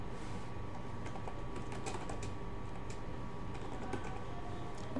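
Soft, quick keystrokes on a computer keyboard clatter steadily and faintly over a background hum while text is entered into an office suite.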